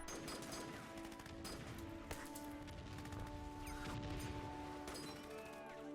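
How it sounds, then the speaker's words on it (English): Artillery bombardment around Nanjing in the Hearts of Iron 3 strategy game, a dense, continuous barrage of overlapping booms and crackling blasts with no pause, heard alone without talk. "there's a lot of bombardment in Nanjing again"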